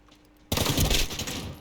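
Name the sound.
shotgun fire in a shooting video game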